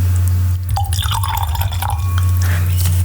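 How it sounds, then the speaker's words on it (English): Red wine, a 2017 Bodega Noemia "A Lisa" Malbec, poured into a glass: a short gurgling, splashing stream with trickles and drips, close and clear over a low steady hum, with no talking. "pour a little bit up."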